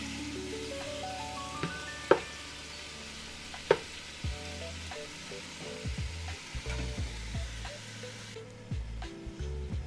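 Partly frozen meat browning in a pot for a hobo stew, a steady sizzle with crackling pops, a couple of sharp knocks and occasional stirring or scraping.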